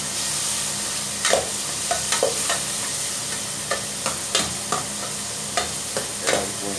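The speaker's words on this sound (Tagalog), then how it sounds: "Lagyan na po natin yung kamatis. Kailangan po natin yung paghalo hanggang sa ito po ay mag-isa." Tomatoes are stirred in a hot pan for ginataang alimango, a soft steady sizzle broken by irregular light scrapes and taps of a spoon.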